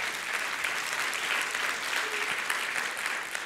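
A church congregation applauds at a service, with dense and sustained clapping that stays loud and even for several seconds, no voices standing out above it.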